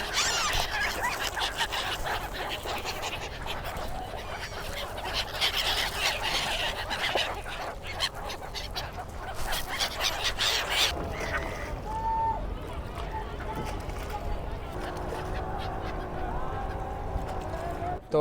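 A large flock of birds, gulls or waterfowl, calls continuously over the river confluence at Triveni Sangam, Prayagraj, a dense chorus of honks and cries mixed with crowd and water noise throughout.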